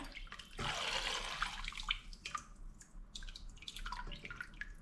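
Hot broth for homemade kholodets is strained in the kitchen. A close, splashing pour gives way to lighter trickles and drips, with no talk.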